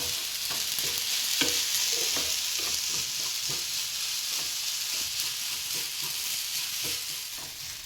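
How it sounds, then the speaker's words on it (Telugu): Jaggery is heated and stirred in a pan until it melts, giving a steady bubbling sizzle with a rhythmic scrape of stirring throughout, no voices present. "ఇది మనకి బెల్లం కరిగే వరకు వేడి చేసుకోవాలి"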